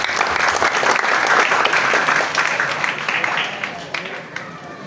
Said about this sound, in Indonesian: Tepuk tangan kalian.